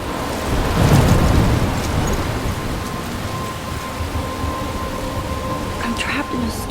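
A thunderstorm in the game Life Is Strange: heavy steady rain hisses throughout, with a low rolling rumble of thunder early on and faint voice sounds under the downpour.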